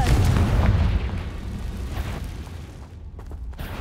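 Confringo fire spell in Hogwarts Legacy, a heavy explosive boom at the start fading into rumbling, crackling blast debris and dense game combat noise.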